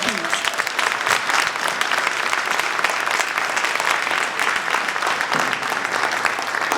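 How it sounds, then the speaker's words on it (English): An audience at an award ceremony claps in a sustained round of applause, thick and even from start to finish, with some speech faintly mixed in. "Give them another round of applause, please."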